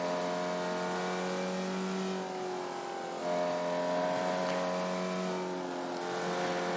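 A Formula Vee race car in the iRacing sim roars nearby at high revs, its buzzing engine note climbing steadily, dipping briefly at a shift, then pulling hard again.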